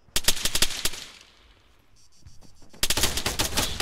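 Automatic gunfire in Arma 3 rattles out in two loud, close bursts of rapid shots, separated by a short quieter gap with a faint distant crack.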